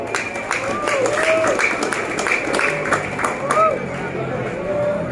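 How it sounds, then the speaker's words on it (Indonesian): A crowd at a grade 9 graduation and farewell ceremony at MTs 9 Indramayu claps in a scattered, moderate round of applause, with a hall murmur and voices mixed in. "Ya, tepuk tangan."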